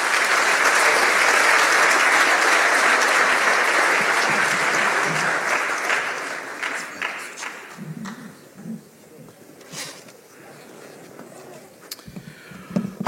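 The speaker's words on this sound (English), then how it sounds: "another round of applause" An audience applauds at the close of a talk on South Africa and the fourth industrial revolution, loud sustained clapping that thins into scattered claps and murmurs.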